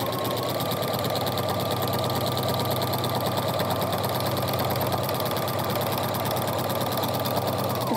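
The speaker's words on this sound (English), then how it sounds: "I'm really only quilting about 4 or 5 inches at a time here." A sewing machine fitted with a walking foot stitches through a layered quilt, giving a steady, unbroken mechanical whir and rapid needle chatter that stops near the end, with no voices.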